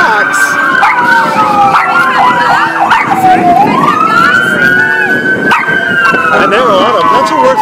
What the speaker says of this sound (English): It wouldn't be a Friends of the Dog Park without the dogs.